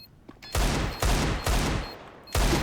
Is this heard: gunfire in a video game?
yes